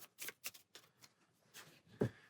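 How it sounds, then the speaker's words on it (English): A stack of action cards for the Space Marine Adventures board game is shuffled, giving several quick riffling bursts close by with no talk. "Take that stack and shuffle."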